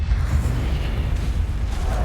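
A Confringo explosion spell going off in the video game Hogwarts Legacy, a dense continuous rumbling blast with heavy low boom that stays loud and steady for the full two seconds, with no speech over it.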